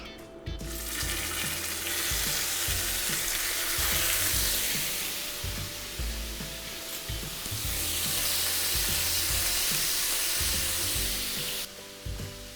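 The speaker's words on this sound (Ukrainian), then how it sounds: "Смажимо фарш." Ground meat sizzles steadily in oil in a hot pan for chili con carne, a loud continuous crackle with occasional stirring scrapes and knocks.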